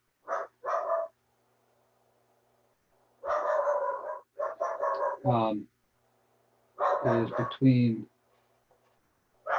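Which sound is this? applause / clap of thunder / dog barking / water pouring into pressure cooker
dog barking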